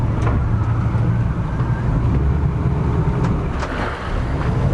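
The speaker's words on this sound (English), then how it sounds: "I have my port engine in reverse and start turning around." Twin-engine boat maneuvering with the port engine in reverse, a loud, steady low rumble of marine engines close by, continuous throughout without talking.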